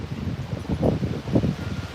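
Wind gusts across an outdoor playground, producing a soft, rumbling rush with swelling blustery surges and light rustling, close to the microphone and steady over the moment.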